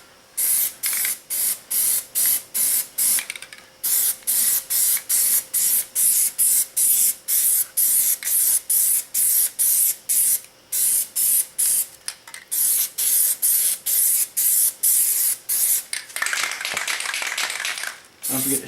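Repeated short bursts of Plasti Dip sprayed from an aerosol can, loud and close, hissing in a steady stop-start rhythm with brief pauses between passes, a longer continuous spray near the end.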